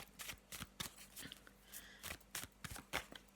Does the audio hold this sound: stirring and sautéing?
no